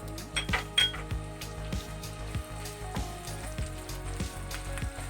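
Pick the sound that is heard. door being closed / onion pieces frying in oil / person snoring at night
onion pieces frying in oil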